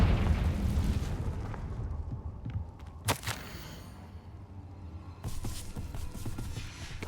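A Confringo spell explodes in Hogwarts Legacy with a sharp, loud burst and rumbling aftermath, followed by a second rush of crackling, fiery noise a couple of seconds later.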